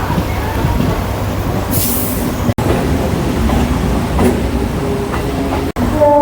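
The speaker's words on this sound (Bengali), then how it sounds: "এখন আমার ট্রেন ঢুকছে বিবাদীবাগ স্টেশনে" A Kolkata Circular Rail local train pulls into BBD Bag station, its loud steady rumble of wheels and carriage noise filling the scene, with a faint squeal and rattles near the end.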